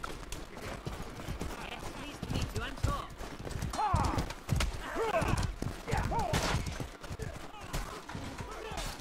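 A horse gallops in the medieval combat video game Mordhau, with rhythmic clip-clop hoofbeats and neighs amid battle noise and shouts, and someone talks over the action throughout.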